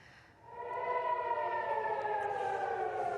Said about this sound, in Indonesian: Video amatir memperlihatkan suara sirine peringatan serangan udara terdengar di Bandara Ben Gurion, Israel.